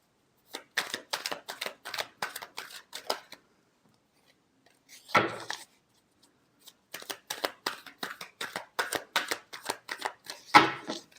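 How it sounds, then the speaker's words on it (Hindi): Tarot cards being shuffled in quick riffling bursts, close and crisp, with a short pause midway and a louder snap or tap near the middle and end; no talking over it. "Last shuffle."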